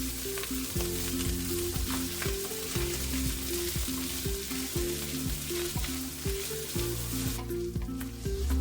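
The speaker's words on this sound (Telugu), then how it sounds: "పచ్చి వాసన పోయే వరకు జింజర్ గార్లిక్ పేస్ట్ ఫ్రై అవ్వనివ్వాలి" Ginger garlic paste fries in a pan for jeera rice, giving a steady close sizzle with stirring scrapes and a tonal melody running underneath throughout.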